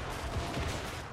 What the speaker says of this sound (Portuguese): Olha a explosão saindo aqui, ó